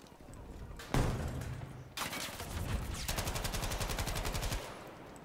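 Machine gun fire in Battlefield V, a few rapid bursts followed by a sustained stream of fast, evenly spaced shots, loud and close, with a brief pause between bursts.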